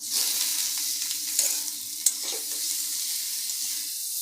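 Pieces of teasel gourd (kakrol) fry in a pan with a steady, loud, bright sizzle, broken by a couple of sharp stirring clicks against the pan.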